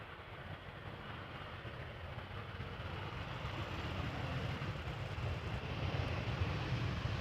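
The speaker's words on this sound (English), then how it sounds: "landing without even applying reverse thrust" An airliner landing at Amsterdam Schiphol Airport without reverse thrust makes a distant, steady low jet roar that slowly swells in loudness over several seconds, with no voices.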